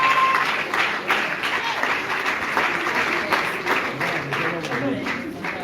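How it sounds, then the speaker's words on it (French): Audience applause for a performer at an awards ceremony, steady dense clapping throughout, loud and close, with some crowd voices mixed in. "Est-ce qu'on peut applaudir bien fort pour l'artiste?"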